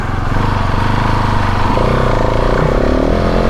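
KTM 690 SMCR supermoto's single-cylinder engine running steadily and loud up close while off-roading on back roads, with a pitch rise partway through as it revs harder.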